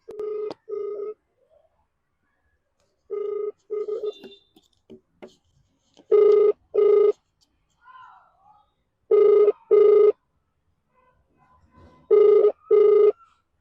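A phone call rings out unanswered: repeated pairs of electronic ring tones sound at regular intervals, loud and close, with short faint chirps and near-silent gaps between the rings.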